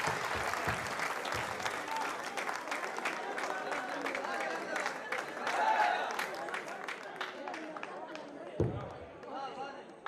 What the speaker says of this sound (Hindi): एक बार जोरदार ताली बजाकर अभिनंदन करें।